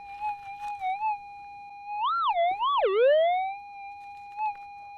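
GPX 6000 metal detector sweeping over a gold target while prospecting at Apollo Hill, Australia: a steady pure threshold tone that swells and warbles into a loud rising-and-falling signal, then settles back to the hum.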